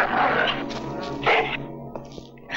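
A dog barks and yips in a Hindi film scene, several loud, close barks spread across a couple of seconds over a steady low background hum.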